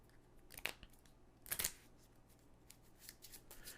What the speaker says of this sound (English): we shuffle the discard